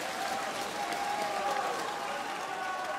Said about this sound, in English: The crowd getting behind Peter Wright.